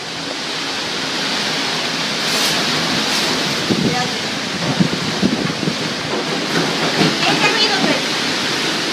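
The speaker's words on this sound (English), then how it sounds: "what's going on right here is a lot of wind" Strong hurricane wind during Hurricane Maria roars as a loud, continuous broadband rush, with gusty swells and scattered rattling toward the end.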